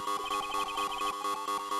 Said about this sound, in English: It's an emergency buzzer.